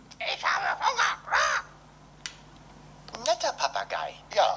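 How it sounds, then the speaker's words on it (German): Parrot squawks from the video game Deponia, a few harsh calls near the start and again near the end, with a sharp chirp between, over a low steady hum. "Netter Papagei."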